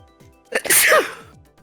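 A single loud, sharp sneeze bursts out with a quick intake of breath before it, then fades into quiet.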